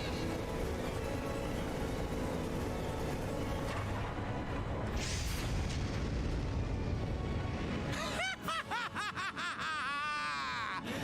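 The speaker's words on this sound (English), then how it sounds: "Deploy the main cannon." A main cannon fires with explosions in the video game Trails of Cold Steel IV: a sustained, loud, dense roar of blasts for several seconds, then ringing, sweeping tonal effects that rise and fall.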